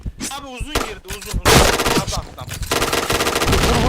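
Rapid automatic gunfire rattles loudly in a first-person shooter game, bursts of shots layered over excited shouting voices and game effects, becoming a dense continuous volley in the second half.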